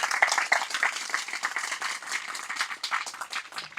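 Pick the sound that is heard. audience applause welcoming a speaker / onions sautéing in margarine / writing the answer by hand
audience applause welcoming a speaker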